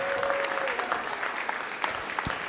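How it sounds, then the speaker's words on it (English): Audience clapping at an outdoor festival roast, a steady dense round of applause throughout with a brief tone early on. "Give a big round of applause to Linda Lagana."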